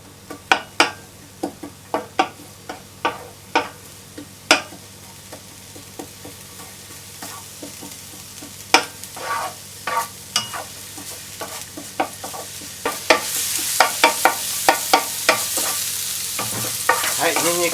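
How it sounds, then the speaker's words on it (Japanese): Garlic fries in salad oil over fairly high heat in a pan, a constant sizzle broken by many sharp clicks and scrapes of stirring, growing busier and louder toward the end. "ニンニクを入れていきます。"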